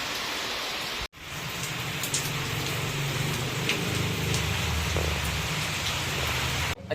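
Steady rain falls and patters on surfaces outside a home, a dense, continuous hiss that briefly cuts out once and then resumes at the same level.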